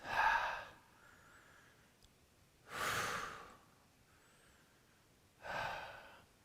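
Three slow, deep breaths taken during a power vinyasa yoga session, each a soft, airy exhale spaced evenly apart with quiet pauses between.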